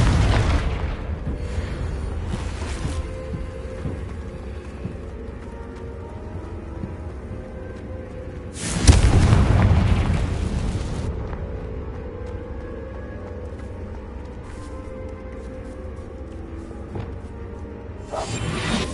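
A Confringo blasting spell goes off in the video game Hogwarts Legacy. A deep booming burst with a whooshing rush lands midway, then fades over a couple of seconds against a rumbling, rain-like game ambience.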